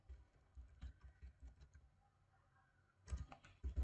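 Java code typed on a computer keyboard: soft, quiet key clicks in scattered bursts, with a denser flurry of taps near the end and no voices.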